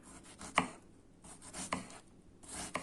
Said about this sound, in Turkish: Kullanacağım çilekleri bu şekilde kesiyorum.